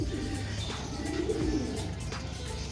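Racing pigeons rest after a race, giving soft, low cooing calls close by, with a gentle rising and falling coo in the middle over a faint ambient background.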